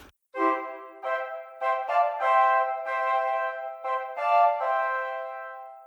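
Block chords move through diatonic sidestepping passing chords that stay within the scale, heard as a short series of sustained, close-voiced harmonic chords in uneven rhythm, played alone with no talking.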